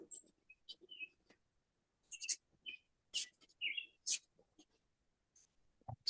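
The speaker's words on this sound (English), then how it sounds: "The soothing bird sounds." Birds chirp in scattered, sharp tweets and short whistled calls with silent gaps between them, close and fairly clear, with no other sound behind them.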